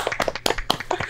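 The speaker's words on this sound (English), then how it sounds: "Let's have a round of applause" Quick, irregular hand claps from a few people, close and bright, a short burst of applause.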